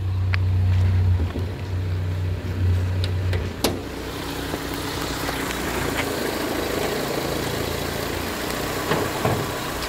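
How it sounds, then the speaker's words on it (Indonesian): A 1993 Toyota Corolla with a 1.6 engine idles smoothly, a steady low hum that is strongest for the first few seconds and then settles quieter and even, with a few faint clicks. "Ini mesin masih hidup ya,"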